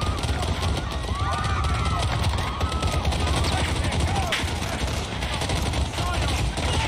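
Pistol fire, including an M1911, rings out in the Piccadilly campaign mission of Call of Duty: Modern Warfare (2019), with dense, continuous, overlapping shots and chaotic game noise throughout, loud and close.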